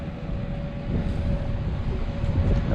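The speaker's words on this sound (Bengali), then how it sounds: "এই যে ট্রলার একটা যাইতেছে" A fishing trawler returning from a catch passes on the sea near Kumira ghat, Sitakunda, a low steady engine drone with a faint tonal hum under gusty wind buffeting the microphone.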